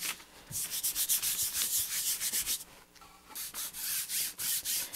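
Paper being rubbed by hand against the back of an inked texture plate, a close, rhythmic series of dry scraping strokes with a brief pause before the rubbing resumes.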